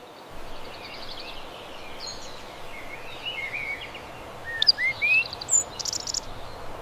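A bird calls faintly against a steady outdoor hiss, with scattered thin chirps that turn into a short cluster of clearer, brighter notes near the end, and no speech.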